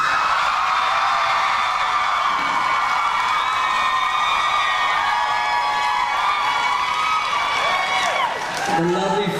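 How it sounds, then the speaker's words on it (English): A Comic-Con panel crowd cheers for Daniel Gillies, a sustained, loud wall of high screams and whoops with shouting voices, swelling steadily for several seconds. "Please give a warm round of applause for Daniel Gillies."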